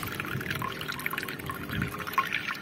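Water drains from a solar water heater tank with a steady, close splashing and trickling rush that carries on without pause.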